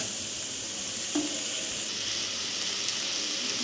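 Onions frying in oil for dhaba-style dal, giving a steady, close, hissing sizzle that runs throughout without a break, with no voices over it.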